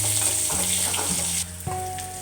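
Onion and garlic sautéing in oil for rasam, a close, even sizzle with stirring, steady throughout, with a brief clink near the end.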